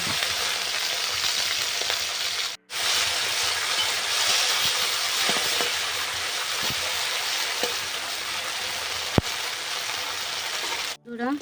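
Soaked, washed dried shrimp fry in hot oil in a wok, giving a loud, steady crackling sizzle that runs almost continuously, broken by two brief near-silent gaps, with no talking.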